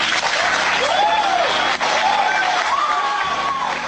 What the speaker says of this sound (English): throwing them into the audience to the applause of attendees